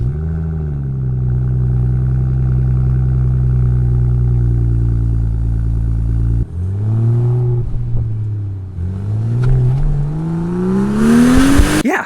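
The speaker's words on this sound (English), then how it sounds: "Sample clip for you of the exhaust" BMW M235 with its N55 turbocharged six-cylinder engine, its exhaust droning loud and steady at idle-to-cruise, then a break and repeated revs building to a hard, rising acceleration howl near the end.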